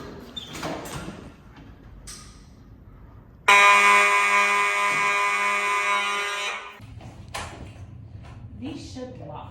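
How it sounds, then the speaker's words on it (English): A fire alarm sounds during a fire alarm inspection, a loud, steady electronic tone blaring for about three seconds before cutting off, with people talking and footsteps before and after. "Is this an alarm?"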